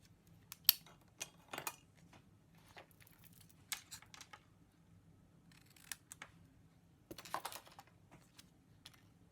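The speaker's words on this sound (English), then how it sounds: "just make a little mark on the outer edge and snip it off there" Scissors snip the edge of a paper card during cardmaking, giving scattered short, crisp clicks and cuts at close range, with quiet pauses between them and no talking.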